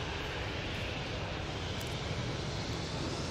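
Ryanair passenger jet on its takeoff roll at Manchester Airport, a steady broadband engine roar heard from a distance, even and continuous throughout, with no talking.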